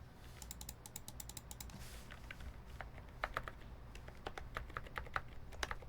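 Rapid clacky keystrokes on a QK100 mechanical keyboard come in quick bursts and scattered single presses, close and fairly quiet, with no talking.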